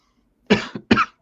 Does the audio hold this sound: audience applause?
no